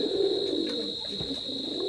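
Teddy pigeons cooing softly at night, low repeated coos under a steady high electrical hum.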